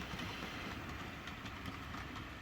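A model railway Class 20 locomotive runs on second-radius track with a steady, faint whirring rumble and light rail clatter that never lets up.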